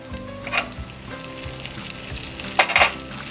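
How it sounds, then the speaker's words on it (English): Spices and butter frying in hot oil in a pan for a paneer and peas curry, with a steady close sizzle and a couple of louder stirring bursts, no voices. "First heat some oil. Now add the spices to this."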